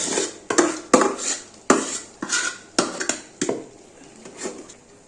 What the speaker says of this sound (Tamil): ரெடியான சிக்கனை அப்படியே நம்ம ஒரு ஹாட் பாக்ஸுக்கு மாற்றிட வேண்டியதான்.